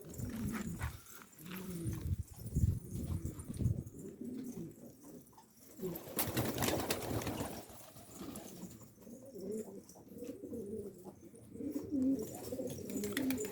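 Istanbul breed pigeons coo in low, repeated murmuring phrases, fairly close and steady throughout, with a brief rustling burst in the middle.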